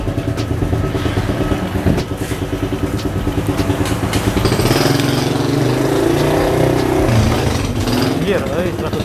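An HSX 110 semi-manual motorcycle engine revs hard in second gear, giving a loud, rough, buzzing note that surges and climbs partway through, with people talking over it.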